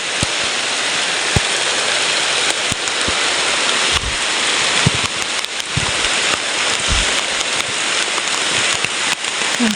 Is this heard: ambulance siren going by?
no